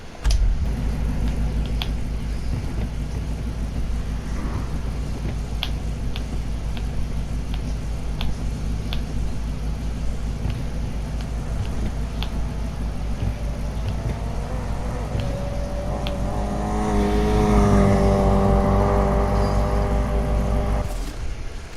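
A 5.1 liter V8 rated at 1500 horsepower in the racing game Need for Speed Heat idles with a deep, steady rumble, then revs near the end with rising harmonic tones, loud and close with no talk.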